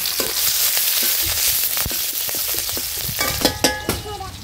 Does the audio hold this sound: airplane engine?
no